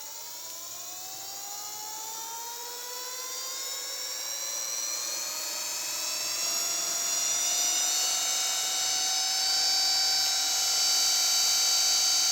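Homemade DIY electric kick scooter's motor spinning up on the bench through speed settings, a whining electric pitch that rises steadily and grows louder over several seconds, alone with no voices.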